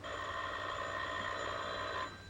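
A telephone in a 1943 film rings with one sustained, steady ring lasting about two seconds at moderate loudness, then stops abruptly, with no talking.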